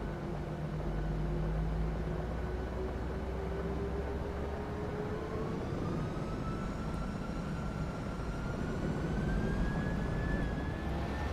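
Jet engines of a PMDG 737NG in a flight simulator spool up for takeoff on the runway. A loud, steady roar carries a whine that climbs gradually in pitch throughout.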